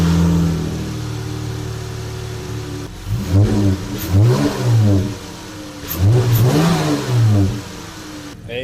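Dodge Challenger HEMI V8 with a newly installed 80mm throttle body, rumbling at idle and then revving hard twice in quick succession, each rev rising and falling with a loud, close throaty roar.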